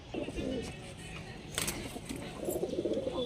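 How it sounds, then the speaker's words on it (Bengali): A male Andhra Phulshira pigeon coos in low, throaty rolling calls, close by, with a faint murmur of other birds in the background. "এই আর একটা অন্ধ্রা ফুলশিরা নর পায়রা আছে"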